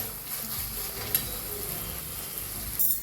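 Green chili paste fries in a pan for sabudana khichdi, a steady close hiss and sizzle with a few faint clinks of stirring.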